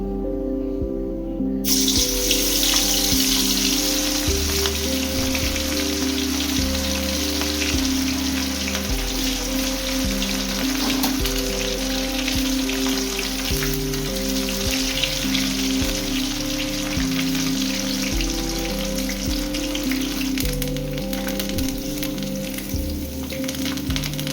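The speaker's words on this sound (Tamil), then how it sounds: "இப்போ இதை நம்ம அப்படியே போட்டு ஃப்ரை பண்ண வேண்டியது தான்." Loud, continuous bubbling sizzle of cauliflower deep frying in hot oil, steady and close throughout with no voices.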